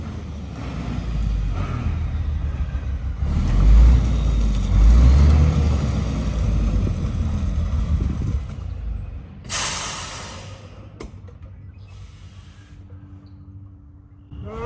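John Deere 1025R compact tractor with its wheels spinning for lack of traction, a rough engine roar and churning hiss that rises and falls, then a sharp burst of spray before it fades toward quiet.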